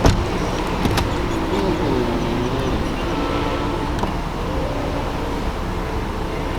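Electric power window motor on a BMW E46 323i running in a parked car, a thin whining hum that rises and shifts in pitch, with a couple of soft clicks and faint background noise.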